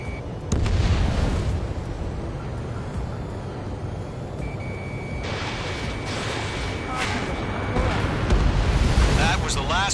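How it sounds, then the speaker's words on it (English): Explosion of a destroyed radar vehicle in the Ace Combat video game, heavy rumbling blasts layered over dense combat noise and jet roar, with a high beeping tone and a louder burst near the end. "Radar vehicle's destroyed"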